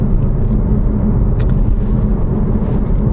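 Inside a Chevrolet Malibu, a steady, heavy low rumble of tyre and road noise comes from driving over patched city pavement, with a brief thump as a wheel crosses a patch.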